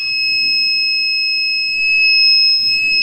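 A loud, steady electronic low-coolant alarm buzzer on a Mazda Bongo van sounds continuously at a constant high pitch for several seconds, close by and alone.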